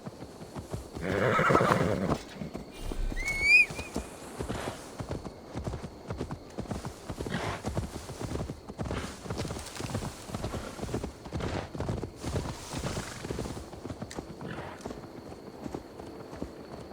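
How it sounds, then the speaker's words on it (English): Horse hooves clip-clopping at a steady walking rhythm in Assassin's Creed Valhalla, close and continuous, opening with a loud neigh and snort, with no speech over it. "Now to deliver Magni his horse."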